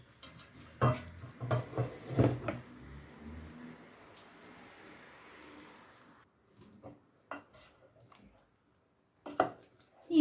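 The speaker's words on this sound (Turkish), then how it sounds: "iyice sosuyla harmanlıyorum" Meatballs are stirred into a yogurt sauce with dried mint in a pan, making a few seconds of soft, wet churning and scraping up close, then silence broken by a few faint clinks.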